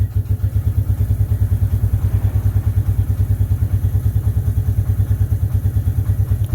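A 1996 Suzuki Quad Runner 250 ATV engine idles close by with a loud, steady, low, rapid thumping pulse and light mechanical clatter, alone without talk.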